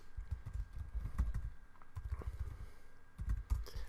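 Quick clusters of keystrokes on a computer keyboard, tapped in short bursts with brief pauses between them, close and fairly quiet.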